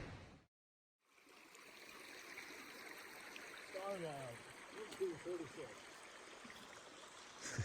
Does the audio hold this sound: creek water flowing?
yes